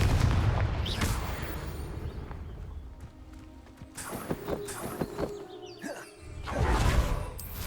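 Confringo blasting-spell explosions in the video game Hogwarts Legacy, several heavy booming blasts with rumbling tails, close and loud, spaced a few seconds apart among other game sounds.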